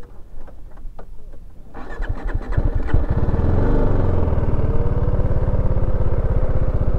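A motorbike engine cranks with a few sputters, catches, and settles into a loud, steady, rhythmic idle close to the microphone.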